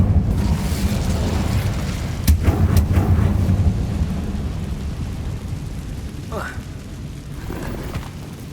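Incendio fire spell in Hogwarts Legacy, a deep rumbling burst of flame with a heavy low roar that swells and then slowly fades, set under continuous game background sound.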